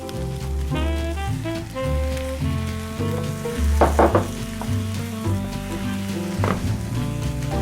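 Bubble and squeak made with potato crisps in a frying pan as an egg is added, giving a loud continuous sizzle with spattering pops, while music plays underneath throughout.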